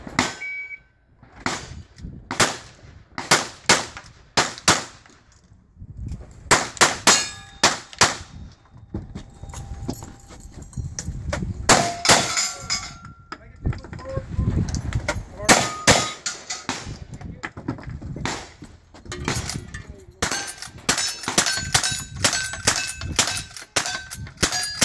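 Sharp gunshots and metallic clangs from steel targets at a cowboy action shooting stage, fired in rapid irregular bursts over about twenty-five seconds, loud and close with brief pauses between strings of shots.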